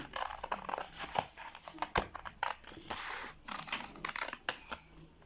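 Scissors snip and trim glued material on handmade men's slippers styled after Gucci, producing irregular close crinkly cuts and rustles in quick bursts.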